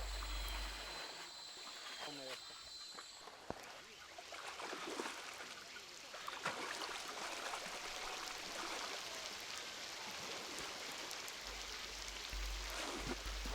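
Rainstorm over a river at a tropical latitude, a steady broadband hiss of falling rain and running water, moderately faint, with a narrating voice over it.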